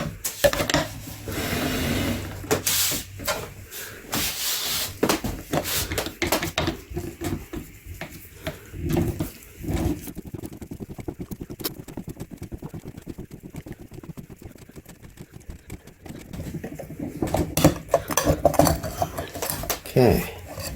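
A used Hengst H329W oil filter being cut open with metal tools, giving irregular scraping, clinking and rasping cuts with quieter stretches between, and a voice speaking at times.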